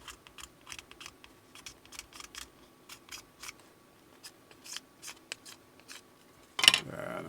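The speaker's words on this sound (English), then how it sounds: "you got to be real careful with that X-Acto" An X-Acto knife slicing through terrain material for a Warhammer tabletop model, heard as a string of quiet, crisp clicking cuts at an irregular pace, followed by a louder scraping burst near the end.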